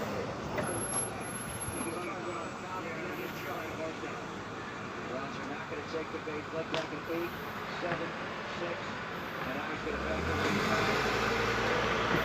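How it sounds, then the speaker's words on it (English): A truck rumbles past outdoors amid road noise, its low engine growl swelling louder near the end, with a voice talking faintly over it. "Sorry, that's just a truck."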